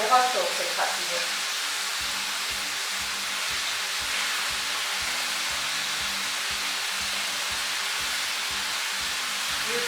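Food fries steadily in a pot for shab daig, a continuous sizzle with repeated soft scraping and stirring strokes beneath it, close and even throughout.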